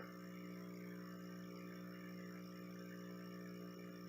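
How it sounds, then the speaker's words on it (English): A faint, steady mechanical hum drones on without change, an Aqua Culture double-outlet aquarium air pump running close by in an otherwise quiet room. "And that's the sound of the pump."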